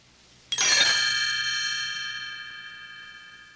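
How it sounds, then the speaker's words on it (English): A bright chime rings once with a sharp strike, then a long sustained shimmer of tones that slowly fades, standing alone as a cue to turn the page in a read-along book of Mother Goose rhymes. "You will know it is time to turn the page when you hear the chimes ring like this."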